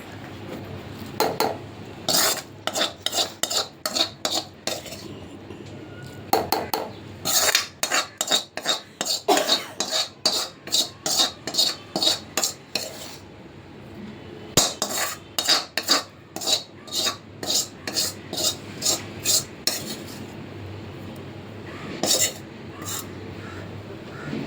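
Onion mixture for an egg curry stirred in a pan, with rapid bursts of metallic spoon scraping and clanking against the pan, repeated in rhythmic rounds with brief pauses, close and fairly loud.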